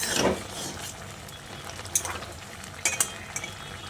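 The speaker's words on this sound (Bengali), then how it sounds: "এর মধ্যে থেকে 2-1টা আলু আমি এইভাবে ম্যাশ করে দিচ্ছি" Potatoes being mashed with a spoon in a simmering fish roe curry in a pan, giving soft stirring scrapes and a few sharp utensil clinks against the pot over a low sizzle, with no talking.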